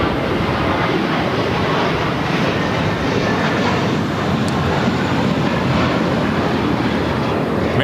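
American Airlines Airbus A321 in Piedmont Airlines retro livery, flight 1582, roaring steadily at LAX; a loud, continuous broadband jet rumble holds for the whole stretch with no voices over it.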